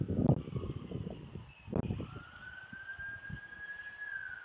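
A police car siren wails faintly in the distance with a long rising tone, heard behind a few dull thumps and low background rumble, with no speech over it.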